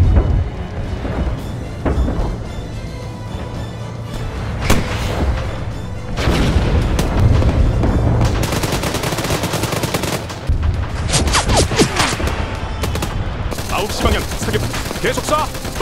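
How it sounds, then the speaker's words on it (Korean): Sustained gunfire rattles in a Korean war scenario, bursts and rapid shots layered with booms and battle noise, loud and continuous over nearly sixteen seconds with occasional shouted voices. "계속 쏴!"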